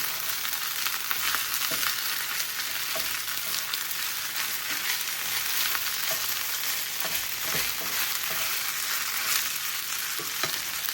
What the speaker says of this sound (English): once our egg is nicely scrambled, we're gonna mix in the rest of the rice